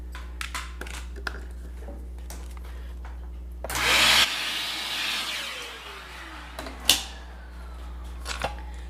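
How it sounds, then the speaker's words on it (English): A small vacuum cleaner starts up with a sudden whooshing hiss, runs briefly, then winds down with a falling whine, surrounded by light clicks and handling noises during pedalboard wiring work. "Got my little vacuum."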